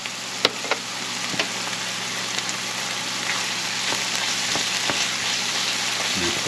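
Pytt i panna hash with chanterelle mushrooms and apples frying steadily in a pan, a continuous soft sizzle with a few sharp pops and small scraping knocks near the start, no talking.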